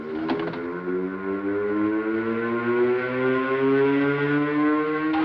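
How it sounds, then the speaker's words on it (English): A prison riot siren wails with long rising and falling tones, loud and continuous, sounding on its own with no voices. "Hey, Joe, what's the sirens for?"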